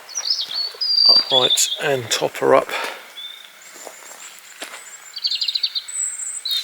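Wild birds sing outdoors on an off-grid homestead, with bright chirps and trills close by. Someone talks over the first half, and the song carries on more faintly on its own afterward.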